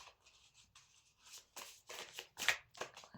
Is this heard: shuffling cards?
yes